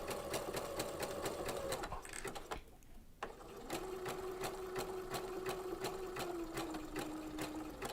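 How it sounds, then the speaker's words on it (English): A sewing machine fitted with a pearls and sequins foot stitches with a steady, close mechanical whir and fast rhythmic ticking, pausing briefly before running again at a slightly lower pitch. "I'm just going to start sewing"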